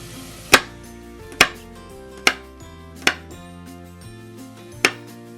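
A knife chops half a red chili on a cutting board in a home kitchen, five sharp, evenly spaced knocks close up with no talking.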